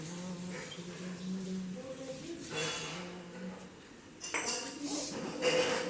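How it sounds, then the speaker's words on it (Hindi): Puja utensils being washed by hand at home, metal dishes clinking and clattering in irregular bursts over running water, fairly close, with a steady hum beneath. "तो अभी यही मैं बर्तन धुल रही हूँ भगवान जी का।"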